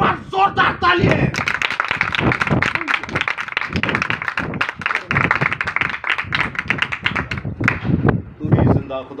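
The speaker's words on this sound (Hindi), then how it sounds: "एक बार जोरदार तालियां" An audience at a religious gathering claps loudly and continuously for several seconds, a dense rattle of many hands with voices mixed in.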